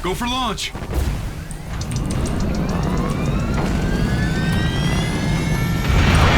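An aircraft engine in the video game Call of Duty: Infinite Warfare spools up with a steadily rising whine and a loud roar that grows toward the end, after a brief voice at the start.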